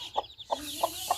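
Laying hens cluck in a few short, separate calls, faint and somewhat distant, with a soft wash of rain noise in the background.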